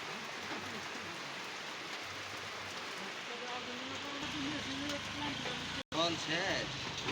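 Heavy downpour hissing steadily and densely throughout, a constant broadband wash of rain with someone talking over it most of the way.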